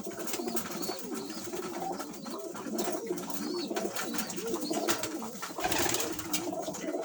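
Van pigeons, a Turkish breed, coo steadily in a loft with young birds, the soft rolling calls overlapping continuously at close range with faint chirps and rustling.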